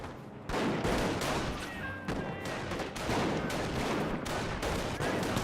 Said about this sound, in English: he does get pinned down by the MG42